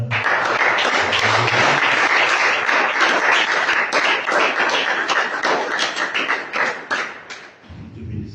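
A church congregation at a revival meeting in Rabat, Morocco, applauding the Lord in loud, sustained clapping that fills the room, with voices underneath, fading near the end as a low voice returns.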